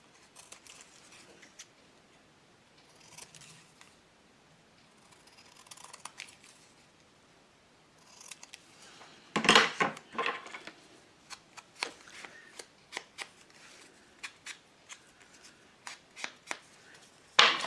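Scissors snip through a paper collage piece in a quick run of short, crisp cuts, fairly close and alone, after a quieter stretch of faint paper handling.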